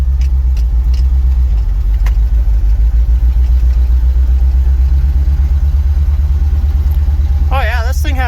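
An International truck's engine labouring as it drives through deep snow, a loud, steady low rumble with a regular throbbing pulse, close up inside the cab, with a voice speaking over it near the end.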